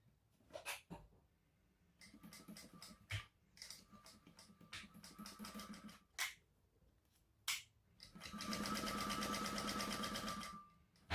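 Sewing machine stitching a seam across the top of a crossbody bag, several short bursts of rapid stitching broken by pauses and clicks, ending in a longer steady run.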